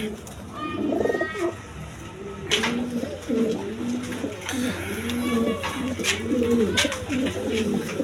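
A male and female pair of good-breed pigeons coo close by in repeated low, rolling phrases over steady background noise, with a few faint chirps mixed in.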